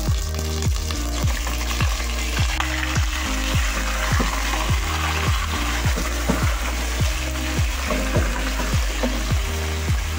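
Chicken pieces frying with whole garam masala in a pan, a steady loud sizzle with repeated rhythmic scraping strokes of stirring, close up and without talk.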